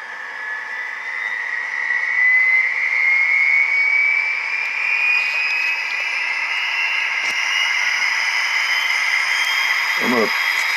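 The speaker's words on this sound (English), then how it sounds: "start up the turbine" An Athearn Union Pacific gas turbine model locomotive fitted with DCC sound starts up, its whine rising steadily in pitch and swelling to a sustained roar, with a brief low burst near the end.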